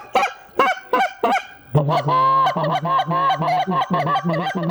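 A goose call blown during early-season goose hunting in New York gives a few separate honks, then a fast run of raspy, high-pitched guttural honks, close and loud.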